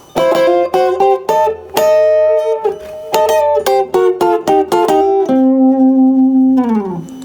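A blues double-stop lick played on electric guitar, moving from the 1 chord to the 4. Paired notes are plucked cleanly in a quick rhythmic run, then a final held chord bends downward and fades, with no talking.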